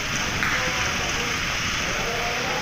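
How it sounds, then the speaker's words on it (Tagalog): Rain falls steadily on a wet road, making a constant dense hiss that stays even and fairly loud throughout. "Umuulan-ulan kasi dyan"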